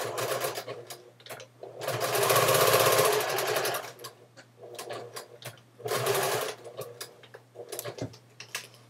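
A sewing machine stitches fabric in bursts of rapid mechanical clatter, two longer runs and several short stops and starts, close by with a steady motor hum between them.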